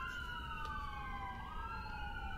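Wailing siren tones glide up and down at moderate distance over a steady traffic rumble, continuing throughout.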